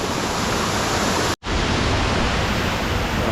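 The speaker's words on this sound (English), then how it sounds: "Really cool little waterfall here." A small waterfall in a shallow brook trout stream gives a steady, full rushing hiss of falling water, close and loud, broken only once by a brief dropout near the middle before the constant roar returns.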